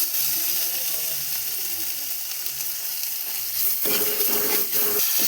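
Cumin, turmeric and crushed ginger-garlic hit hot oil in a pan, giving a steady, close sizzle that flares louder toward the end with a few stirring scrapes and no talking.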